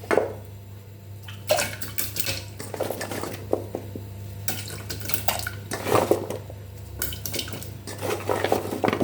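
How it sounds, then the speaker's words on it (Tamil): Water poured into a pressure cooker for cooking tapioca, splashing and clinking in bursts against the metal pot, with pauses between pours and a steady low hum underneath. "குக்கரில் நம்ம ஒரு 2 கிளாஸ் தண்ணி வச்சுப்போம்"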